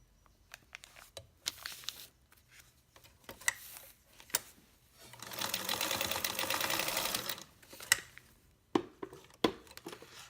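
A sewing machine basting fabric along an edge, with short clicks and handling noises around a steady stretch of rapid, buzzing stitching in the middle, close and clear.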